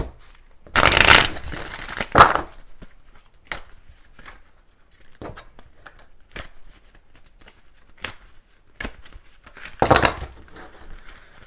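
Tarot cards are shuffled in a few bursts of riffling and flicking, a loud burst at the start and another near the end, with quieter taps and card slides between, close up and with no talk.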